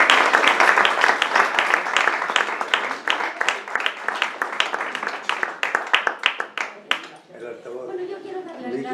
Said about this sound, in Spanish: Un fuerte aplauso para Pilar Pizarroso.